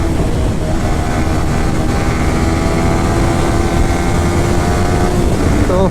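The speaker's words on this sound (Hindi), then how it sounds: "अभी देखो गाइस क्या भाग रही है बाइक" Motorcycle riding fast just after a service, its engine droning steadily and loudly throughout with constant wind rush and no talk.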